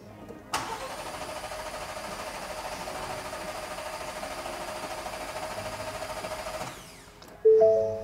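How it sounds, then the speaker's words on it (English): A 2021 Ford Bronco with a 2.7L engine cranks without firing. The starter whirs continuously for about six seconds at a steady, even pace, then stops, and a brief clunk follows. "If you depress the brake and the gas all the way down and try to start it, it will not start, it will only crank over."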